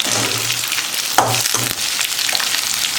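Onions sizzle loudly and continuously in a pan for semiya upma, with a short stirring scrape partway through. The frying stays close and steady with no voices.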